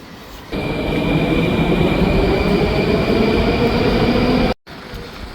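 Moscow metro train running underground near Partizanskaya station, a loud sustained rumble of wheels and carriage with a steady high whine, cutting off briefly near the end before the din resumes.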